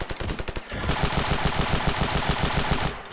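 Rapid automatic gunfire from shooting in the video game Ravenfield, a loud, close stream of rhythmic shots that runs almost continuously for about three seconds.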